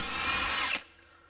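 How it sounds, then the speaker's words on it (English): Power tool spinning hard as a 36 mm spline socket removes the axle nut on a BMW 328xi E92, a loud steady whir that cuts off sharply after under a second, leaving quiet. "We're going to go ahead and remove the actual axle nut."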